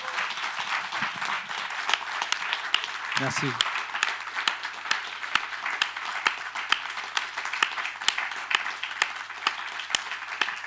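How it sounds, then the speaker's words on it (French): Audience applause at a talk with a film composer, dense clapping that holds steady throughout, with someone briefly thanking the room over it. "Vous pouvez l'applaudir."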